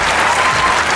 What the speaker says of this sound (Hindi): तालियां होनी चाहिए मतीरा के लिए